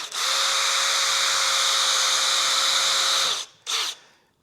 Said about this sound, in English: So I'll drill a little pilot hole